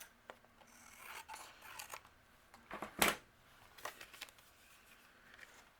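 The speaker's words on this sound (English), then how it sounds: "I'm going to trim that off with my scissors." Scissors trim a small overhang off a paper graduation card, giving a few quiet rasping snips with one sharper, louder cut in the middle, close and faint.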